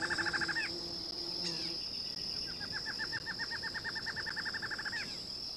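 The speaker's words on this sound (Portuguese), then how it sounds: "Os pássaros são atraídos à árvore por insetos de todo tipo" Birds call around a huge forest tree: repeated quick chirps come in bursts and a long rapid series over a steady high insect drone, with no one talking.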